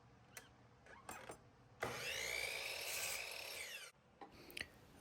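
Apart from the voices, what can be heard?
cutting scrap oak wood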